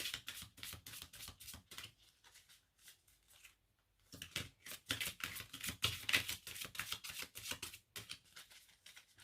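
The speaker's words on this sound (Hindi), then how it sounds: "Last shuffle." Tarot cards being shuffled by hand in quick, close riffling bursts, with brief pauses between rounds and no voices.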